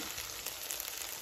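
Rice sizzles and fries in a pot of chicken biryani as it is mixed, a steady close hiss with small stirring scrapes running throughout.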